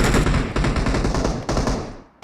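Rapid automatic gunfire in PUBG Mobile, a dense, loud burst of back-to-back shots filling the whole moment before trailing off at the end.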